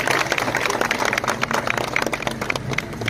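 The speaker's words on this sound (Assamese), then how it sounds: "সকলোকে হাত চাপৰি দিবলৈ অনুৰোধ জনাইছোঁ" Sustained crowd applause at an outdoor commemoration day event with a statue unveiling in Bergaon, dense and steady clapping throughout, fairly loud and close.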